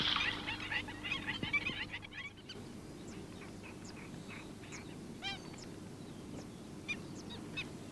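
Common moorhens squabble over territory in rice fields of the Tagus Estuary nature reserve, giving scattered, sharp, clucking calls at moderate distance over a steady outdoor background, with a louder rustling burst at the start.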